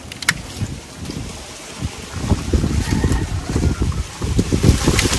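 Gusty wind buffeting the microphone, rough and rumbling, growing stronger toward the end with no voices.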